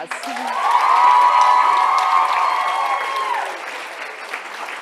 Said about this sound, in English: give yourselves the biggest round of applause